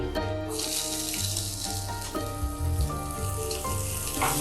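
Onions sizzling in a pan of hot oil, a steady bright hiss that runs nearly the whole time under loud music with sustained tones.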